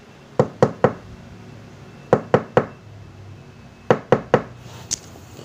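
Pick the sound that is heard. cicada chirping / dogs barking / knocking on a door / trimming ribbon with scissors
knocking on a door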